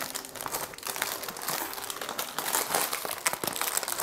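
Masking tape unrolls and crinkles as it is wrapped around a marshmallow flower bouquet, a close, continuous papery rustle and crackle with no talk.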